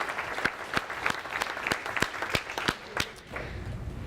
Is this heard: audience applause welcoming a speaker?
yes